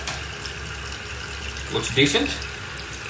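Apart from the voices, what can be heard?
water refilling a toilet tank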